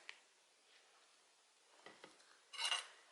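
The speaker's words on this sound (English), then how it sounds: "Give it a stir." A spoon stirs lemon juice into homemade liquid food coloring in a small dish, with a few faint clinks against the container and a brief louder scrape near the end, quiet and close.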